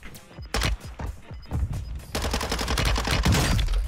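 Rapid gunfire crackles in quick bursts, single sharp shots at first giving way to a sustained automatic stream, close and punchy with a game-like sheen.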